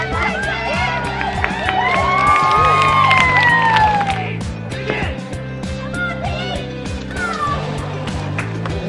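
A crowd at a bark peelers' convention during Red Suspender Weekend cheers and hollers loudly, with whistles and shrill rising calls over a steady roar, and a voice comes through the noise.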